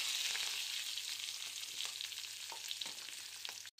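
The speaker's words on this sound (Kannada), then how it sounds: "ಈರುಳ್ಳಿ ಕಲರ್ ಚೇಂಜ್ ಆಗುವವರೆಗೂ ಫ್ರೈ ಮಾಡ್ಕೋಬೇಕು" Chopped onions frying in a pan for a North Karnataka brinjal palya, a steady close sizzle with faint scraping stirs now and then, with no talking.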